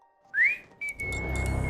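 A person whistles in imitation of a ghost's whistle from a Thai horror story: one clear note slides upward, breaks briefly, then holds as a long, steady, close tone.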